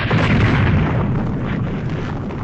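A bomb explosion sound effect in an audio drama: one loud, deep, rumbling blast that fills the clip and slowly fades, with no voices.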